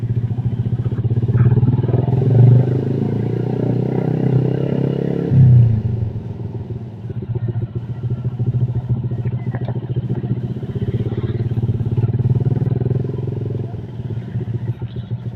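Tuned Honda Vario scooter with a 55 mm piston, lowered very close to the ground, its engine running steadily nearby with a rough, clattering idle and small swells in loudness throughout.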